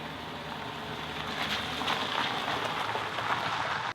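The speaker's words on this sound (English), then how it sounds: "Heavy rain outside" Heavy rain falling outside a Renault Talisman, a dense, even hiss of drops that swells slightly midway, holds steady for a few seconds and cuts off abruptly.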